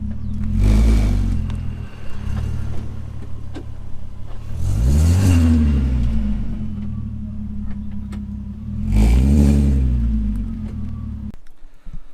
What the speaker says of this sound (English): there's like a grinding noise where it still needs a new caliper